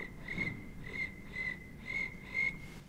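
A voice imitates cricket chirping with about five evenly spaced, whistly chirps in a steady rhythm, close and fairly quiet.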